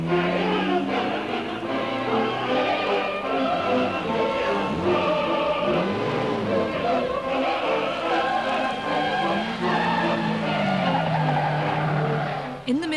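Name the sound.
Ferrari sports cars racing, tires skidding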